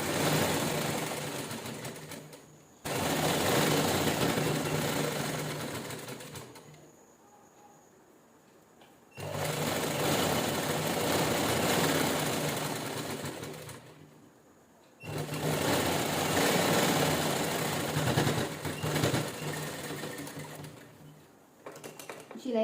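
A sewing machine stitches a jeans top made from a saree, running in three long steady whirring bursts of several seconds each, separated by short quiet pauses, close and fairly loud with no talking.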